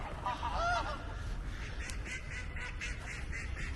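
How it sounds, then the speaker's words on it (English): Large ducks quack and honk outdoors in Amsterdam, a few nasal calls close by at first, then scattered softer squawks over steady ambient noise. "and then the big fat ducks"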